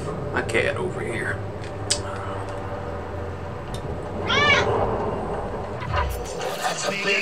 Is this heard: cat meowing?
yes